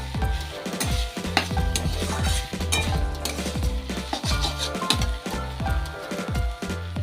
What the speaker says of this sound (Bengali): চিনি দেওয়ার পর মা আরো ভালো করে নাড়াচাড়া করে নিল যাতে চিনিটি গলে যায়।